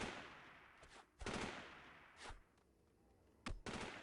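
Gunfire in Delta Force 2, several sharp bursts of shots at irregular gaps, some closer and louder, separated by quieter stretches of background noise.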